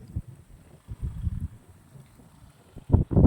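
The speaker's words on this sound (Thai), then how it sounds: "ลมแรงมากเลยนะคะ" Strong wind gusts outdoors and buffets the microphone. Low, uneven rumbling bursts rise and fall, loudest near the start, around one second and at the end.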